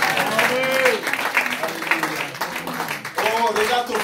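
A church congregation applauds, scattered clapping running steadily beneath loud speech from a preacher throughout.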